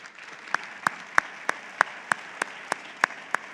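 Sparse applause at an embassy panel event, a soft bed of clapping punctuated by a regular series of distinct, fairly loud individual claps, about three per second.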